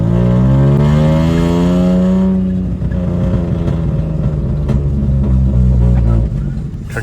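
A car with a straight-piped exhaust, its exhaust leak repaired, revs loud and close, holds a steady high note for a couple of seconds, then drops to a rough, throbbing idle.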